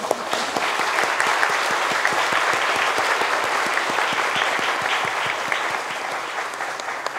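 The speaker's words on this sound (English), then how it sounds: "give a big applause for all of them and for yourself too" Sustained applause from a forum audience at a biopharmaceutical science master's forum, dense steady clapping throughout, loud and continuous with no speech.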